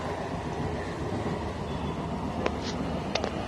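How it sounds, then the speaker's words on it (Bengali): Steady rumble and rattle of a moving passenger train heading toward Diamond Harbour, heard from inside the carriage, with a couple of brief metallic clicks near the end. "এটা আপের ট্রেন, যেটা হলো যাচ্ছে ডায়মন্ড হারবারের দিকে।"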